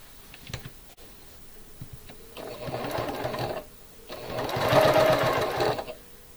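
A sewing machine stitches border rectangles onto a pillow in two bursts of rapid, even mechanical whirring, the second longer and louder, separated by short pauses and a few faint clicks.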